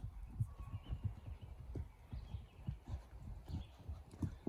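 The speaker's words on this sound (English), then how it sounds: "the only time I run a horse like this is if they're aggressive" A horse running in a round pen, its hooves drumming in a quick, steady rhythm of soft thuds, fairly faint and distant.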